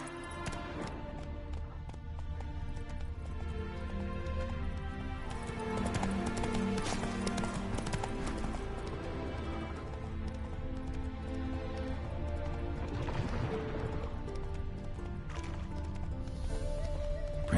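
Geralt's horse Roach from The Witcher 3 gallops with a continuous rapid clip-clop of hooves, joined by game music and occasional snorts, the hoofbeats staying close and steady throughout.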